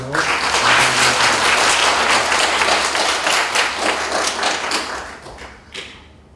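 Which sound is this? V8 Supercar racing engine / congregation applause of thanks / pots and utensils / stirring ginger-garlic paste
congregation applause of thanks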